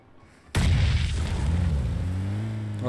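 A single heavy, booming enemy gunshot in PUBG Mobile cracks in abruptly after a quiet moment, leaving a long rumbling tail and a droning hum.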